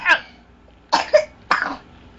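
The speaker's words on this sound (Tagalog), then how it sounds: "Sige, ubo." A child coughs three times on request, short sharp bursts with pauses between them, heard close up against a quiet background.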